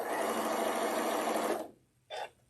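A sewing machine stitches fabric in a steady, fairly faint whir for about a second and a half, stops, then gives one brief short burst.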